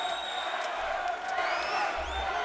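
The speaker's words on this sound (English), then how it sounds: "Definitely some football fans here surrounding the cage, cheering for Joe Emmons" Football fans around the cage at a Heat Sports 25 fight night cheer for fighter Joe Emmons, a steady, fairly distant crowd roar with some higher shouts rising through it throughout.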